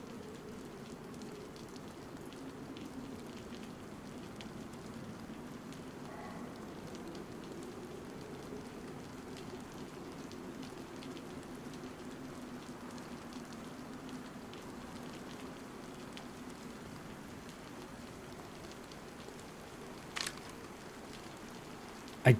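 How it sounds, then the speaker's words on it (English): Rain in the video game DayZ: a faint, steady hiss runs unbroken throughout, with a small click near the end. "The rain has come at the wrong time."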